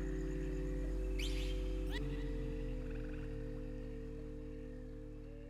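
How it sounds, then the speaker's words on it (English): A frog boss in the video game Hyper Light Drifter croaks in loud warbling bursts over a droning synth soundtrack, with a deep sweeping call near the start. "So it's some sort of froggy... boss."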